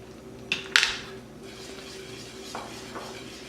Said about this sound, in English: I'll take the candy thermometer out of the pot.